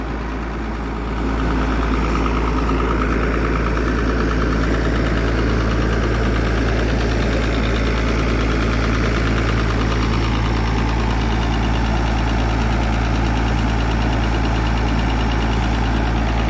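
Water pump engine on a pond-dredging job, running steadily and loud at close range, a constant low drone with no pauses and no talk over it.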